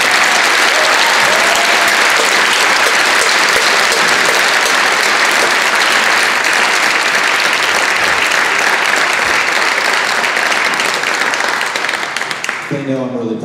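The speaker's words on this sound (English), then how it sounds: "please give a wonderful round of applause to your kids" A concert audience applauds student band and orchestra musicians at a high school spring concert, a loud, sustained wash of clapping that fades near the end as a voice begins talking.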